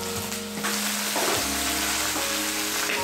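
Fenugreek and mint leaves frying and being stirred in a pan, a continuous close sizzle with occasional scraping shifts and a brief dip partway through.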